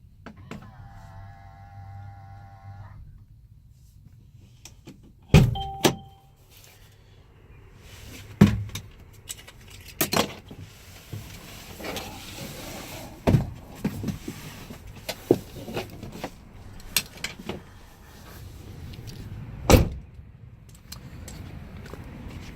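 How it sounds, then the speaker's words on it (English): Power side mirrors on a 2019 Mercedes-Benz Sprinter 2500 cargo van adjusting and folding in, a series of short motor whirs and sharp clicks spaced through the cabin quiet, close and moderately loud. "Left mirror, right mirror, and that's to fold them in."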